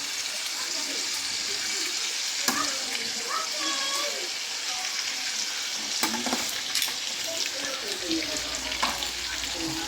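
Pork hock adobo sizzles steadily in a pan, a dense crackling hiss with scattered sharp scrapes and clinks as it is stirred, close and continuous, with faint background voices.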